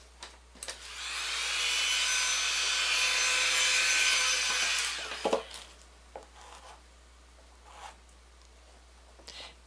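Small silicone tool spreading resin over a tile or canvas, a drawn-out rasping scrape lasting a few seconds, followed by scattered light taps and rubbing.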